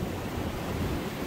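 Steady wash of ocean waves and wind at a harbour, a continuous broadband surf roar with no clear individual breaks, close and moderately loud, no voices.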